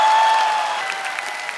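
A studio audience at a comedy talk show applauds in a steady, dense wash of clapping that stays loud and close throughout the short stretch, slowly tapering, with no voices over it.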